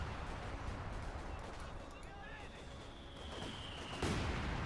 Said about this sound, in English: Artillery firing down there as well, close to the base.